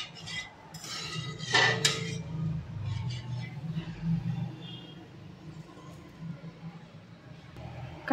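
Dal is added to a cooking pot for Rajasthani dal tadka, producing a few close clinks and scrapes of a utensil against the metal pot over a low steady background hum.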